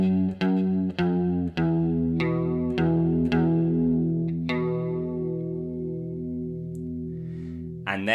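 Electric guitar with chorus and echo effects plays a descending fragment of a classic riff, a few picked notes ringing into one another and then sustaining and fading, heard alone.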